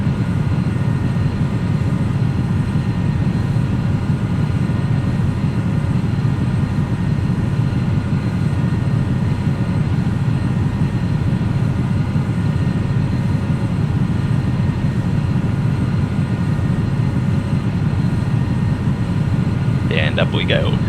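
A Challenger 300 jet in X-Plane 11 climbs with a loud, constant broadband engine roar that stays steady throughout, with a brief chirp near the end.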